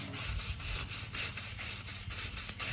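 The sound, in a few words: Osborn V-groove scratch brush scrubbing off oxidization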